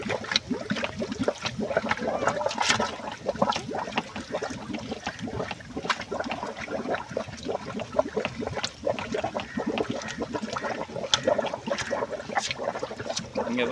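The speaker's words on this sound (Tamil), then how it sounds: "பாருங்கள் ஓவர் ஃப்ளோவில் கொஞ்சம் வர வர அப்படியே தண்ணி இதில் வருது." Water runs through the overflow of a guppy aquarium in a continuous trickle, with steady gurgling and small splashes at close range.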